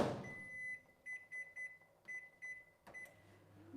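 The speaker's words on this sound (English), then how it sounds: "let's microwave on high" A microwave oven set on high for five minutes, heating a lidded dish of water, hums as a series of short electronic beeps sound in an uneven rhythm, with a clunk near the end.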